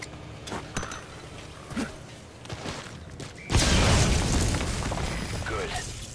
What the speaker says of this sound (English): My first time using a grenade, guys